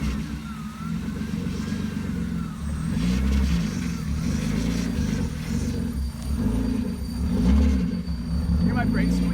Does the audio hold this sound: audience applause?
no